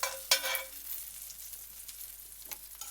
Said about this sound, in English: It's not rocket science. It's frying.